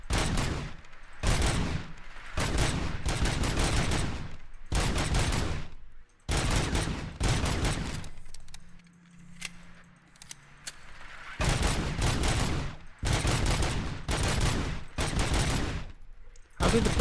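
Gunfire in the video game RoboCop: Rogue City: loud bursts of rapid shots in long volleys separated by short lulls, with a quieter stretch in the middle before the shooting resumes.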